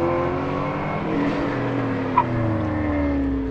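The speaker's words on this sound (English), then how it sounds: "Now they're starting another car here." A race car idles and revs at the start of an autocross run, a steady low engine rumble with rising and falling revs, heard from nearby with no talk.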